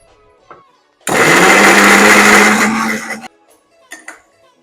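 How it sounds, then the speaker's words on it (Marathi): An electric mixer grinder whirs loudly for about two seconds, grinding onion, tomato, garlic, ginger and green chili into paste, with quiet kitchen clinks before and after. "2 कांदे आहेत, 1 टमॅटो आहे, 7-8 लसणाच्या पाकळ्या, अर्धा इंच आलं आणि 1 मिरची. हे सगळं आपण एकत्र मिक्सरला वाटून घेऊया."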